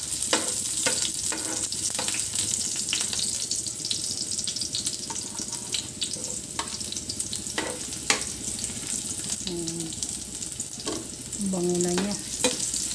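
Chopped garlic and onion sauté in hot oil for squid adobo, a continuous close sizzle broken by frequent scraping stirs, with a few brief tonal clinks near the end.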